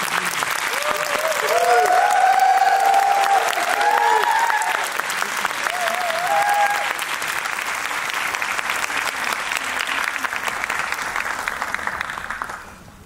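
A theater audience at a Korean fan screening Q&A for Marvel's Thunderbolts* applauds as the director Jake Schreier and production designer Grace Yun arrive: sustained, loud, dense clapping for about twelve seconds, with cheers and whoops on top, fading at the end.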